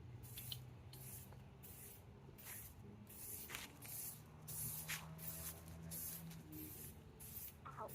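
Aerosol spray paint hisses in repeated short bursts onto a car dashboard and instrument cluster panel during a budget Ford Duster dash refinish, the spray sounds close and steady with brief gaps between pulses.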